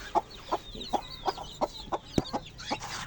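A hen with her chicks clucks in a steady, repeated rhythm, each cluck short and fairly close, with faint high chirping from other birds behind.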